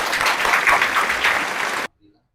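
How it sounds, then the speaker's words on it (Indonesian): A short burst of dense clapping greets a guest being welcomed, close and steady, then cuts off abruptly. "Hoi, tepuk tangan tuh."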